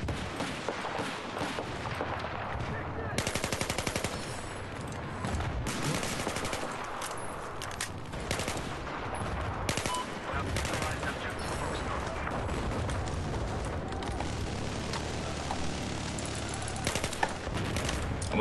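SVD sniper rifle gunfire in the Battlefield 4 video game: repeated sharp shots ring out over dense, continuous battlefield noise with other gunfire and explosions throughout.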